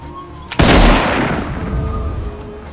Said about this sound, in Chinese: 领队的军官只好端枪开始射击